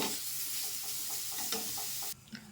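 Leafy greens sizzling in oil in a home kitchen pan, a steady frying hiss with occasional stirring clicks, cutting off abruptly near the end.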